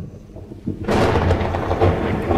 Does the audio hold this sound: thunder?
yes